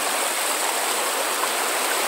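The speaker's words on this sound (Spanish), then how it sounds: "Qué bonito estar aquí en el río" A Sinaloa river below a full dam rushes steadily as a horse is led into the water, producing a dense, even wash of flowing water with no voices and no distinct splashes.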